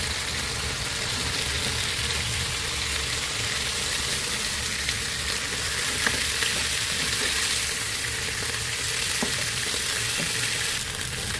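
Chicken pieces sizzle steadily in a hot frying pan after being flipped, a dense continuous crackle with a few faint clicks, no voices.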